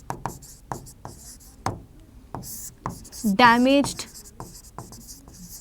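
A pen writes biology notes on paper, giving a run of quick, close scratchy strokes in a steady rhythm, while a teacher speaks in Hindi over part of it.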